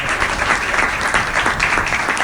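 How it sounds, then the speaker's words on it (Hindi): A crowd at a Hindi comic poetry gathering claps loudly and continuously, a thick, even burst of applause filling the whole moment. "आपकी तालियां बता रही हैं"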